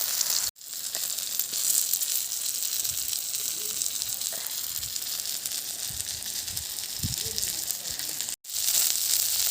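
Fish frying in sesame oil in a primitive outdoor setup, a soft continuous sizzle and hiss with a few crackles and pops, fairly faint and steady, without talk.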